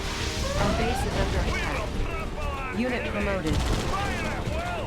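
Gunfire crackles through a Red Alert 2 online match as a sniper picks off infantry. Shots and explosions mix with chirping unit sounds in a busy battle, while someone talks excitedly over the action.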